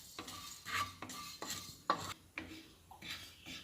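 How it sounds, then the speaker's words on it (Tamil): Fenugreek seeds dry-roast in a pan without oil, with a spoon stirring and scraping in irregular scratchy strokes, close and fairly quiet, no talking. "எண்ணெய் விடாமல் ஒரு காஞ்ச கடாயில் வந்து நல்லா வறுத்து எடுத்துக்கலாம்"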